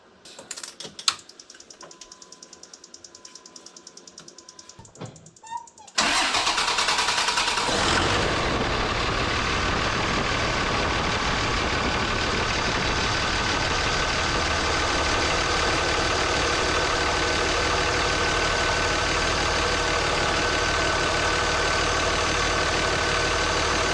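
A Cummins 5.9 24-valve diesel turns over and fires up after some faint clicking, then settles into a loud, steady idle heard close to the engine bay near the turbo.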